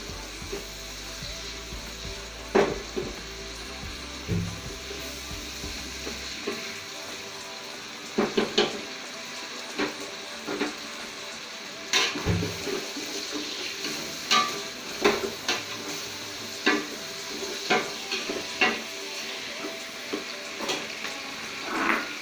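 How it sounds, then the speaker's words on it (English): Fried rice ingredients sizzle softly in a home pan, a continuous frying hiss broken by repeated clinks and scrapes of a utensil stirring against the pan. "Let it fry for a while."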